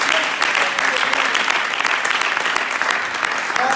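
A church congregation applauds steadily during a Sunday service, a dense, loud, continuous wash of clapping that fills the whole stretch.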